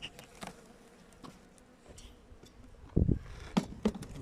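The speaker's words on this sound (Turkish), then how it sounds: "Çeşmenin önünde de bayağı arı var." Honey bees buzz faintly at a water fountain near winter hives, with scattered soft knocks and a few louder thumps near the end.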